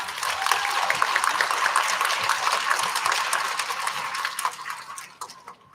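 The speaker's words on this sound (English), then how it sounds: "Let's give Honor a big round of applause." A school audience at a student recognition ceremony gives sustained, dense applause for a student, steady for several seconds before it thins out and fades at the end.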